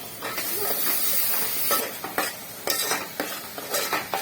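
An onion, tomato, mint and coriander paste is stirred through hot oil with a spoon, making a soft sizzle broken by repeated scraping strokes against the pan, close and moderately loud.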